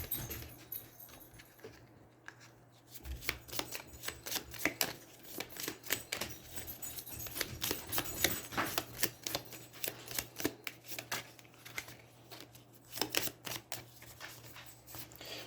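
Cards from the Aeons End board game shuffled by hand, giving a run of quick, crisp riffling clicks and flutters at close range over a soft low hum, with no voices.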